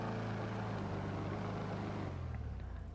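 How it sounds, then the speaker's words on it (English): A Declasse Vigero ZX muscle car in GTA 5 revs its engine in a steady, loud low rumble that holds for a few seconds, then eases slightly near the end. "I have to rev the engine to get the smoke out of the way for some reason"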